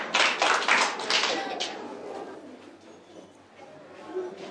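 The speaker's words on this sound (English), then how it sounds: "Clap for her." A small group claps for a child after a spelling attempt, with a burst of loud clapping near the start that fades into softer scattered claps and background murmur.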